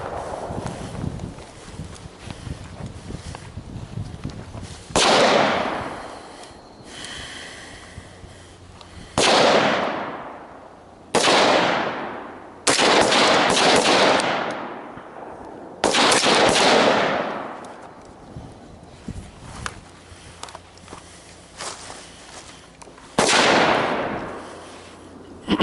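Rifle shots ring out on an outdoor marksman course during kneeling-position drills, six or so sharp, loud cracks spaced several seconds apart, each trailing a long echoing decay over quiet wind noise.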